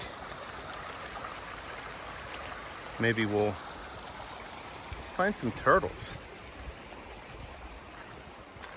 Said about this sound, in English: A little creek.